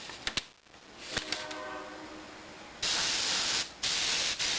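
Hairspray hisses from a can onto a model tank in short bursts, starting with faint sprays and clicks, then two loud, steady hissing blasts separated by a brief pause.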